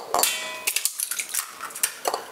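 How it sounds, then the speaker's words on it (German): Whole eggs cracked into a mixing bowl for a sponge batter, heard as a quick series of sharp taps and clinks of shell against the bowl rim, close and fairly crisp. "die Eier im Ganzen in die Rührschüssel schlagen"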